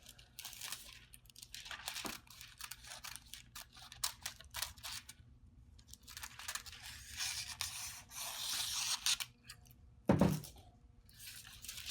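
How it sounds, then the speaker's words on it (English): Sharp scissors dry-crinkle and snip thin, delicate foil, with scattered rustles and a sharper crunch near the end, close up and fairly quiet. "I'm going to cut off a piece for this"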